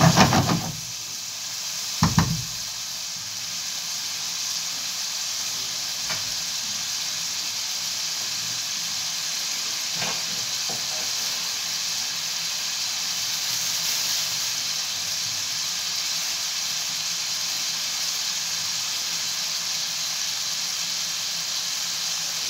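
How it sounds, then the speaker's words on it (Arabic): Chicken liver hits hot oil and ghee in a pan, a sharp burst of sizzling at first that settles into a steady, continuous frying hiss with a few faint clicks. "صوت الكبده وانا بحطها على النار، او صوت صدمه الكبده في الزيت والسمنه"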